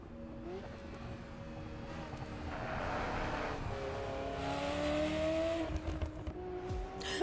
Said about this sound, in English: The engine sounds were kinda weird.